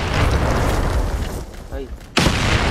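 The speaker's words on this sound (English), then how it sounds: "Grenade! Grenade, eh?" Grenade blast in the Pirates VS Ninjas video game: a loud, booming game explosion that starts at once, eases into a low rumble and returns with a sharp second burst, while a voice talks over it.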